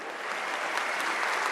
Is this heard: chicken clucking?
no